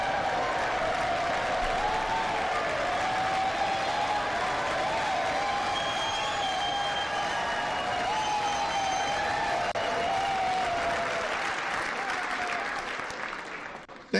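Sustained applause from a large audience at a US presidential inauguration, steady and loud throughout, fading slightly at the very end.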